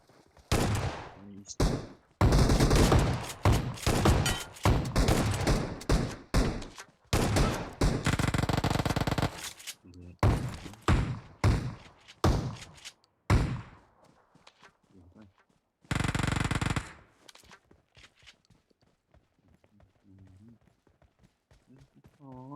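Bursts of rapid video game gunfire, volleys and single shots, loud and close, with people talking between them and quieter stretches toward the end.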